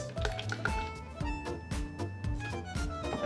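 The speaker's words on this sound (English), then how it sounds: "Fine strained into our glass." A cocktail fine strained into a glass over a large ice cube, heard as a series of close drips, splashes and liquid pours with light tapping, fairly quiet and with no speech.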